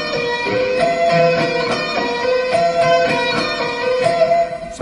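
A slow electric guitar lick with barred notes and hammer-ons and pull-offs. Sustained, connected notes move through a repeating melodic phrase at a steady, unhurried pace. The guitar is clear and close, with no talking.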